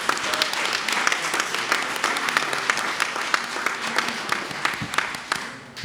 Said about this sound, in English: So I think just one more round of applause.